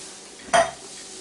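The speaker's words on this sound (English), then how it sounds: "now, there goes my tomatoes" Tomatoes drop into a Ninja Foodi pot with one brief clattering splash near the middle, followed by a short rustle, over a faint steady kitchen background.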